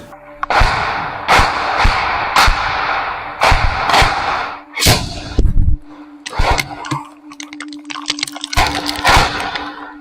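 Heavy artillery shell explosions in a combat zone, a run of loud, sharp blasts and thuds arriving every second or so, some close and booming, with a steady tonal hum running beneath.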